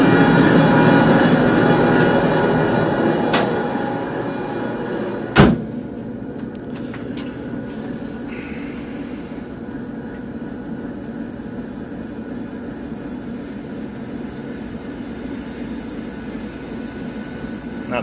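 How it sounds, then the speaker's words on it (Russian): An air compressor on a TEP70 diesel locomotive, number 0320, runs as a loud, steady mechanical drone, with a sharp clunk partway through before the hum settles into a continuous, even roar. "Компрессор включаем, да?"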